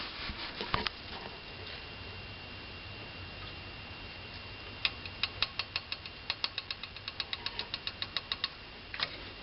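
A loose heatsink in a Pentium III desktop PC, rattling in quick irregular bursts of sharp ticks and clicks over a steady low machine hum, with no talking.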